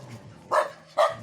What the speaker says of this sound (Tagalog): may aso pala dito